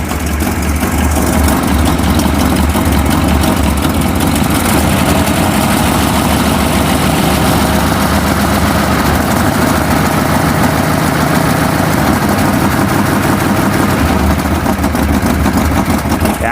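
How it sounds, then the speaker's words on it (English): V8 engine of a 1957 Ford Thunderbird idling close and loud, a steady deep rumbling drone that holds unbroken throughout. "So she's just gonna have to sit and idle a little bit."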